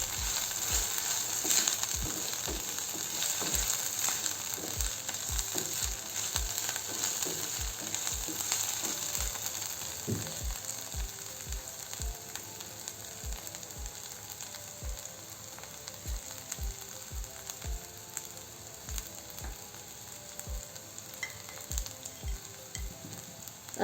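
Potato filling for aloo bonda sizzles steadily in a pan while a spoon stirs it, with regular scraping taps against the pan throughout, close and continuous.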